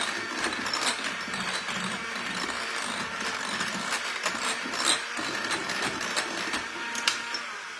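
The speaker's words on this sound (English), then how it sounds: "I just like mixing my stuff up with a mixer" An electric hand mixer beats a cream cheese filling for pastries, giving a steady close-up whir broken by dense rattling and clicking as the beaters knock around the bowl, with no talking.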